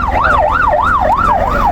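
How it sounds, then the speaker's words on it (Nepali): A road ambulance siren wails up and down in a steady, regular cycle, loud and close, with faint traffic rumble beneath it and no talking. "एम्बुलेन्स आयो कताबाट आयो"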